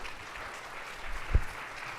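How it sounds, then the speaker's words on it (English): Applause from an audience at a fundraiser breakfast comes as a steady, moderately distant patter of many hands with one louder knock partway through. "A round of applause for Beth here."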